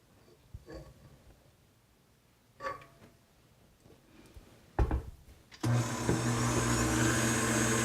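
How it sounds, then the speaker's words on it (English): A stand mixer with its whisk attachment starts whipping cream, a steady loud whirring hum that begins abruptly after a few scattered knocks and clatters and keeps running to the end. "So I've got my mixer here fitted with my whisk attachment because the first thing I'm going to do is whisk my whipping cream until stiff peaks form"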